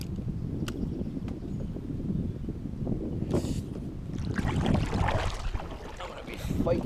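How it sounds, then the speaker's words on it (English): Wind buffets steadily while trolling from a small fishing boat, a continuous rushing noise close to the microphone with faint water and boat sounds beneath. "I'm gonna be fighting the wind."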